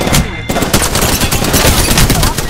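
Fast, loud bursts of automatic gunfire crackle through a battle-royale shooter match, rapid repeated shots close up for a couple of seconds.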